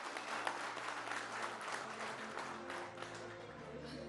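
Studio audience applause greeting a guest on a Hindi political interview show, a dense continuous wash of clapping heard from a distance and fairly faint throughout.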